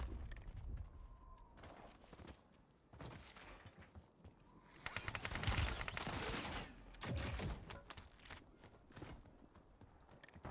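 Gunfire in the Warzone video game, several bursts of shots across a busy, noisy game soundscape, loudest around the middle, with brief speech underneath.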